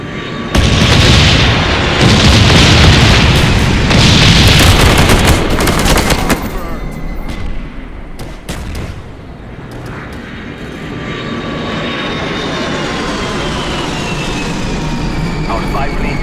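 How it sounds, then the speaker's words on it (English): B-52 carpet bomb strike in Call of Duty Black Ops, a loud roaring jet pass with rumbling explosions for several seconds, then fading to a quieter distant engine drone and lighter battle noise. "B-52 waiting for your mark. Carpet bomb coming in."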